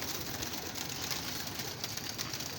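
Pigeons cooing in a loft or rooftop coop, a steady dense murmur of soft coos with constant bird noise throughout, fairly faint and continuous.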